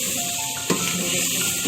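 Steady frying sizzle rises from spices being stirred into a hot pan for a chicken and potato curry, with a brief scrape of the spoon partway through.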